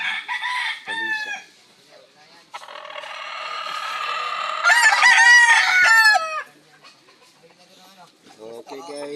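A rooster crows loudly and repeatedly at close range while hens cluck around it, with a person talking briefly at the start and end.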